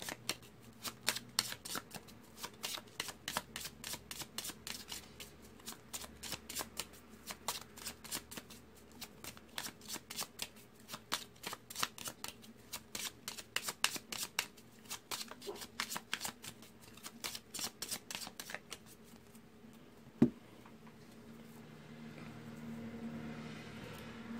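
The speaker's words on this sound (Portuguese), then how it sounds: "Então vou embaralhar" A deck of Gypsy oracle cards being shuffled, a long run of rapid crisp riffling clicks at close range that stops near the end, leaving a brief knock and quiet room tone.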